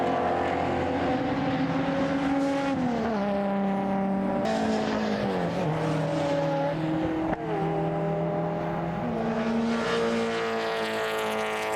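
Race cars at the WA Sporting Car Club's Valvoline Cup round at CARCO, climbing the hill out of a corner onto the straight, engines droning loudly with shifting pitch as they accelerate through the gears, one continuous nearby roar with no talking.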